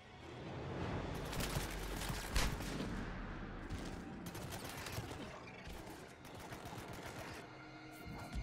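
Enemy gunfire in the video game Mass Effect 3, a near-continuous barrage of overlapping shots and bursts for the whole stretch, loud and close with a few sharper cracks standing out.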